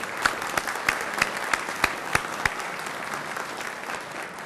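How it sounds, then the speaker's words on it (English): An awards-dinner audience applauds event partners, a sustained wash of clapping with a few louder sharp claps standing out in a loose rhythm over the first half. "Please join me in a huge round of thankful applause for all of our partners"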